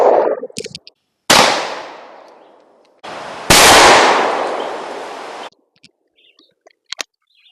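Stevens 512 20 gauge over-under shotgun firing Kent Ultimate Fast Loads 2.75-inch shells at a target 20 yards away outdoors: two loud, sharp blasts a couple of seconds apart, each with a long decaying echo, then faint clicks.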